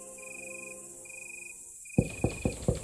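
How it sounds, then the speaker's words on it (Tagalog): Crickets chirp steadily at night in a quiet setting, a thin high trill running throughout, joined near the end by four sharp knocks. "tahimik ang paligid maliban sa mga kuhuni ng mga kuliglig"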